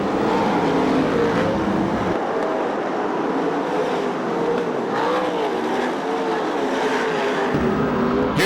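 USAC National and CRA sprint cars racing on the Perris oval, engines roaring loudly past in a continuous, shifting drone of several cars at speed.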